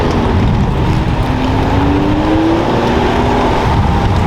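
A red BMW 340 drives on a track at a BMW driving school, its engine a loud, steady drone with a slowly rising tone, close and continuous with wind and road noise.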